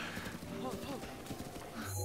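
Horse hooves clip-clop in The Legend of Zelda: Breath of the Wild, a short run of quick, close hoof beats with a brief whinny-like tone, layered under game ambience and a voice talking.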